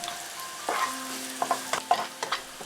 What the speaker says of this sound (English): When the oil is hot, put the garlic